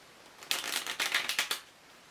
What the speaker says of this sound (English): Shuffle it as many times as you want.